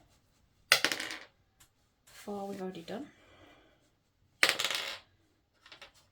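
Ten-sided dice tumble and clatter on a hard surface in two sharp bursts of rattling, with a person speaking briefly between the rolls.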